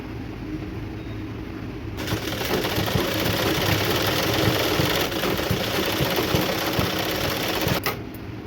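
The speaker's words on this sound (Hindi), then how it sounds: "हम बेल्ट को इस तरह से रखकर सिलाई चलाएंगे" A sewing machine stitching a blouse belt, starting after a quiet moment and running at a steady, fast, close clatter for about six seconds before stopping.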